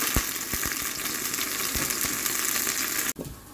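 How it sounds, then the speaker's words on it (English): Wild porcelain fungus mushrooms crackle and spit in hot oil in a frying pan, a constant close sizzle with sharp pops, ending abruptly in a brief near-silence. "put a bit of oil in a frying pan and fry these off"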